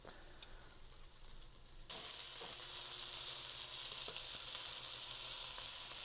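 Eggplant pieces fry in hot oil, a quieter sizzle at first that jumps to a loud, dense, continuous crackle after about two seconds as more go into the pan, close up, with no talking.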